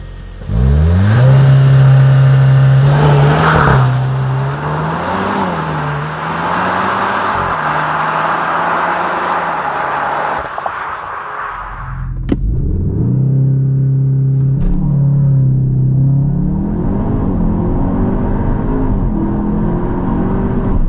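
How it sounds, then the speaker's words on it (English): A 2025 CUPRA launches hard from a standstill using launch control in sport mode, its engine roaring loudly and revving up through the gears, then dropping away briefly before building strongly again, close inside the cabin and with no talking. "Put it in EC Sport mode so that we can engage the launch control."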